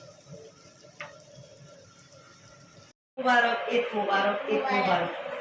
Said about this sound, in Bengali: চাউলটা একদম ভাজা ভাজা করে তারপর পানি দিব